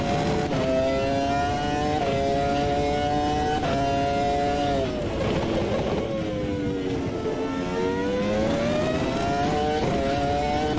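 A Formula 1 car in the Automobilista 2 racing game laps Bathurst, its high engine whine climbing repeatedly through upshifts and dropping into corners, steady and continuous with no talk over it.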